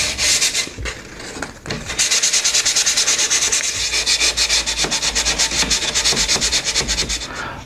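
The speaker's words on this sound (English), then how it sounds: "So the rest of it's just going to be hand sanding." Hand sanding of a finished wooden surface to knock back its sheen, with loud, close, rhythmic back-and-forth rasping strokes after a few short starting passes, and no voices.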